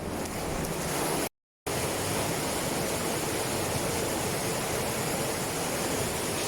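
A forest waterfall roars as a constant broadband rush, loud and close, broken only by a brief moment of dead silence, with no voices.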